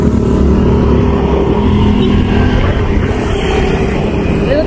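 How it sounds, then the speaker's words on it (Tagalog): Busy highway traffic rolls past at night in Bayugan. Vehicles produce a continuous loud roar and rumble of engines, with faint voices underneath. "So, ito yung Bayugan paggabi mga manay. Highway. Yan, super traffic."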